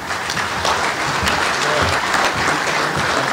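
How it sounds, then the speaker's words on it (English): Convention audience applauding officers at a general session, a dense, even wash of many hands clapping, loud and sustained with no break. "applaud each individually or all of them as a group or both"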